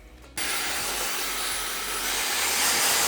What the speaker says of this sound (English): And then I'm gonna be blow drying her with my Dyson.